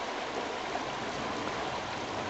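Drainage water runs steadily from a culvert under a road and spills into a bed of heavy boulders just above the Bear River, making a constant, close, rushing stream sound with no voices.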